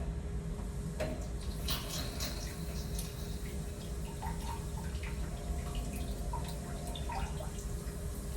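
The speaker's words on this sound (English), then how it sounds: "Water shooting upwards." Continuous spray of water shooting upward from a bidet toilet nozzle, a steady hiss with scattered drips and splashes, close by and with no talking.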